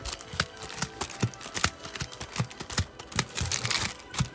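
Loaded packs of trading cards being shuffled by hand at a live card shop, giving a rapid, crisp run of papery clicks and flutters that stays close and fairly loud, with no talking.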